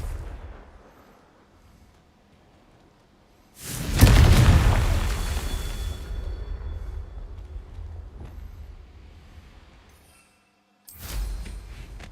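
Blasting-spell explosions from a magic video game: a sudden loud boom at about four seconds with a long rumbling decay, then a quiet gap and another sharp blast near the end, no talking.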